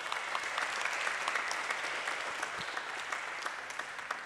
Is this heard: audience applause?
yes